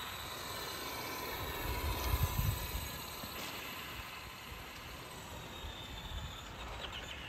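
A Traxxas Rustler RC car drives off at speed, its electric motor giving a continuous high whine with gritty wheel and surface noise that stays fairly steady, moderately loud and with no talking.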